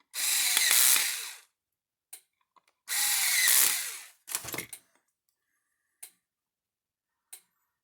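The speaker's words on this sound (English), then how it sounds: "Now, put the screws back in it." Power drill driving screws back into a Gallagher fault finder, two loud sustained whirring bursts close up, followed by short clicks and a brief stuttering spin as the screws seat.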